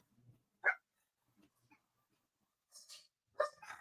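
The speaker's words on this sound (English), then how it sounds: "Here come my killer dog from outer space." A dog gives a few short, sharp barks and yips, spaced out with quiet gaps between them, fairly close by in an otherwise silent room.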